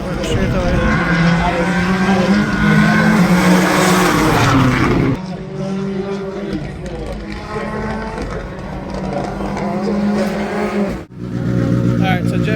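Rally cars at Rally Barbados 2025 roar up a straightaway in a continuous, loud engine drone that swells and shifts as the cars pass close by.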